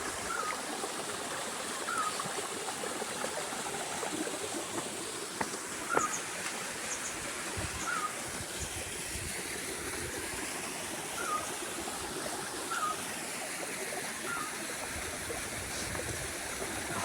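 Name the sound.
mountain stream water flowing downhill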